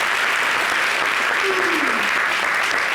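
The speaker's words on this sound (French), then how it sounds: "Merci de l'applaudir encore une fois." Dense, steady applause from a television studio audience fills the whole stretch, loud and even, with no voices standing out above it.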